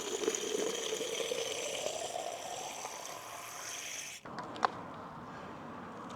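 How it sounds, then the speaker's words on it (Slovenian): Water pours steadily from a public drinking fountain in the centre of Kostanjevica na Krasu, a close, continuous gushing that stops abruptly near the end, leaving quieter outdoor background. "tukaj prav v centru je en vodni vir, kjer si lahko natočite bidon"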